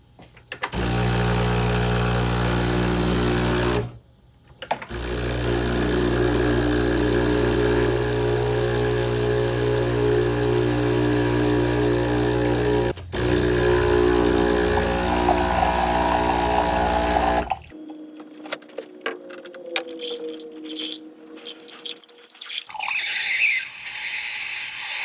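A Breville Barista Express espresso machine, bought dead on arrival from eBay and being revived, runs its pump with a loud, steady droning hum. The hum breaks briefly twice, then gives way to sputtering, spraying water and clatter.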